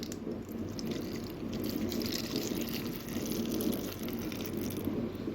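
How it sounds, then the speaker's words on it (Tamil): Milk poured into blended muskmelon pieces for chilled juice, a steady close liquid trickle and splash running continuously for several seconds with no talking. "இப்போ பால் சேர்த்துக்கலாம்"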